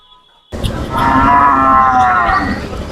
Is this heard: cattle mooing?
yes